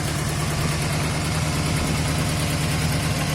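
Bobber motorcycle engine idling steadily with the choke on, a close, loud, even low rumble with no pauses.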